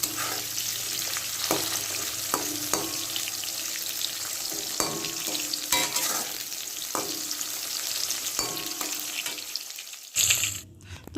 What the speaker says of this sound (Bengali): আমি পাঁচ রকম ভাজাটা একটা একটা করে সেরে নিচ্ছি